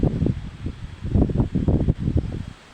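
Wind blows through a village tree, producing gusty rustling of leaves and branches in uneven surges, close and fairly loud, with some wind buffeting on the microphone.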